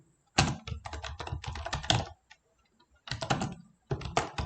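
Fingers type on a computer keyboard while entering exam questions into an MS Word document: several fast bursts of close, crisp key clicks separated by short pauses, with no talking.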